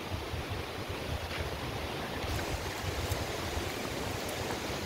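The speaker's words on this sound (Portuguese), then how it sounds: "a cachoeira da gruta" A waterfall at a grotto, heard as a dense, steady roar of falling water that fills the whole clip at an even level, with no talk.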